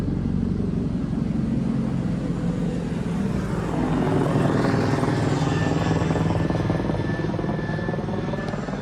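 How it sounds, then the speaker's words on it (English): A military helicopter passes nearby, its rotor thump loud and steady throughout, swelling slightly toward the middle as it flies over. "The frickin' military helicopter goes by."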